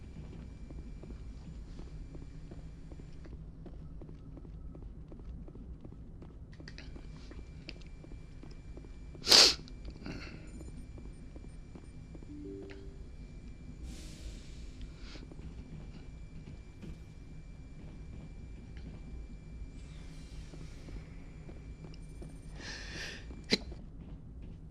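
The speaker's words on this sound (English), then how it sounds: "I'm gonna sneeze here." A single sharp sneeze bursts out partway through a quiet stretch of low background hum while playing Mass Effect, loud against the near-silence, followed later by a faint click.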